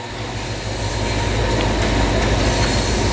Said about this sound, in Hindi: पाकिस्तान एक्सप्रेस का अराइवल है, HGMU लीड पे है।